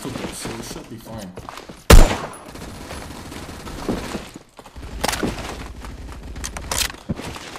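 Rifle bursts from an FAL Para 50.63 in the shooter game Phantom Forces, with a sharp loud shot near two seconds and further rapid volleys later, over busy game background noise.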